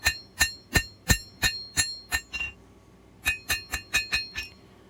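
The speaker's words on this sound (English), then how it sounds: "that backwards curve will straighten out as we hammer in our bevels," Metal blade bevels being hand-forged with a hammer on an anvil: a steady series of about eight ringing strikes, a brief pause, then five more close, bright blows.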